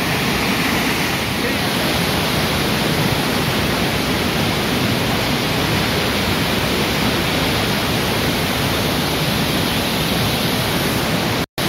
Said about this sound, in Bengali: এখানে খুব চেঁচিয়ে কথা বলতে হবে, কারণ ঝর্ণার আওয়াজ খুব।